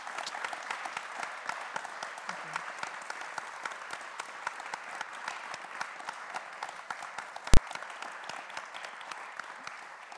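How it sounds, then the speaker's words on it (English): Audience applause for a speaker at the Cambridge Union, a steady even wash of clapping held for the whole stretch, with one sharp loud crack about three quarters through. "Please join me in giving a warm round of applause"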